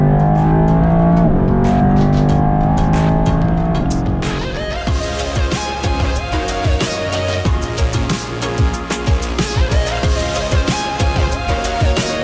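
A Mercedes race car engine roars and revs continuously on a hot lap of the Hockenheim circuit, pitch rising and falling through gear changes, loud and close.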